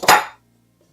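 A woodworking clamp snaps open during the build of a flip tool stand: one sharp, close, loud clack that dies away quickly into near silence.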